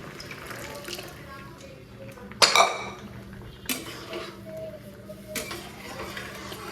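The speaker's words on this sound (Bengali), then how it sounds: "এই যে প্রেসার কুকারটা ধুয়ে" Tap water runs while a pressure cooker is washed in a kitchen sink, with a sharp clatter of metal cookware, a few more knocks and clinks, and steady splashing underneath.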